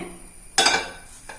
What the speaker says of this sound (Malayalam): ഇനി നമുക്ക് ഫിഷ് ഫ്രൈ ചെയ്തെടുക്കാൻ വേണ്ടിയിട്ട് ഞാനിത് ഫ്രൈ പാൻ വെക്കുകയാണ്.